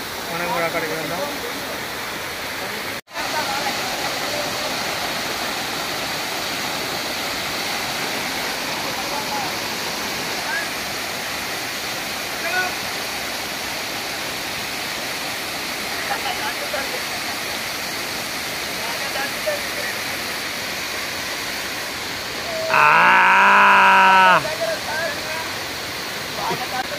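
Baabijhari waterfall at Kerameri pours in a steady, loud broadband rush from start to end, with a short burst of voices near the close.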